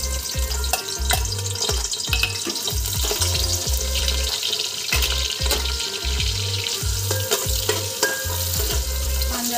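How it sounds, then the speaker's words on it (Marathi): Onions frying in hot oil for a Zamzam chicken biryani, a steady loud sizzle with repeated stirring scrapes in a regular rhythm, close up and with no talking. "याच्यात आपण कांदा घालून घेऊ"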